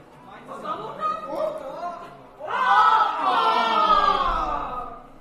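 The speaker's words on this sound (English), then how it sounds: "As you can hear, a lot of people are cheering on Will" A crowd cheers at a Rocket League esports tournament, loud overlapping shouts that rise sharply partway through, with voices mixed into the din.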